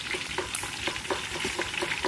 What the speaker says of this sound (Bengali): এদিকে ইলিশ মাছ ভাজা চলছে